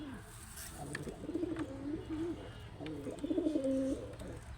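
Pigeons kept in a small loft coo in repeated soft, throaty rolling calls nearby, with faint background noise and a little murmuring.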